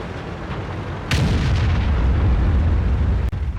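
A tank gun fires in World of Tanks, a low-accuracy, low-penetration gun loaded with HE shell, taking a 390 meter shot: one sharp, loud boom followed by a rumbling tail over steady game background noise.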